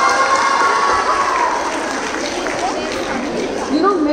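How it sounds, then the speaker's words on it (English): A school audience applauds a student in a sustained, dense wash of clapping mixed with crowd noise and voices, steady and loud throughout. "Let's give her a big round of applause."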